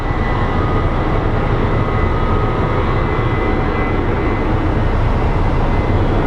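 Steady, loud roar of a Boeing 737 jet engine at an airport, running continuously, a broad rumbling drone with a faint whine on top, no voices.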